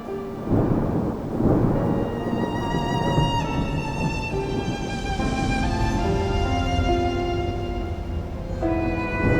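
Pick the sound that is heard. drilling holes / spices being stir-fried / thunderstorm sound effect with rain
thunderstorm sound effect with rain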